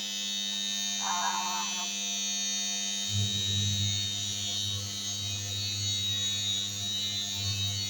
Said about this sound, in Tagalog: Ito naman yung aking spin dryer.